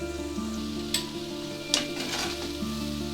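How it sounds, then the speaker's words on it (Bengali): Onions sizzle steadily in a frying pan for a Basanti pulao and mutton kosha meal, a constant close frying hiss with a couple of brief utensil clinks and a low steady hum underneath. "পেঁয়াজটা ঠিক আমার এইভাবে ভাজা হয়ে গেছে"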